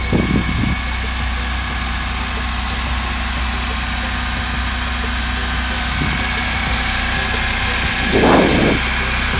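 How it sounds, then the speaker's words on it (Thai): A 2007 Toyota Altis sedan's engine idles steadily and alone, a continuous low hum with a couple of brief louder bumps near the start and end. "เครื่องดีเกียร์ดี ไปฟังเสียงเครื่องกันเลยครับ"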